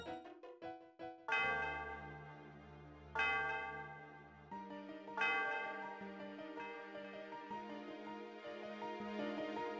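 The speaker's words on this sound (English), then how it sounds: "The sound of the bell reverberates through the area." The Celestial Tower bell in Pokémon Black rings out in several loud, resonant strikes, each swelling and then ringing on, layered with the game's music and with no talk.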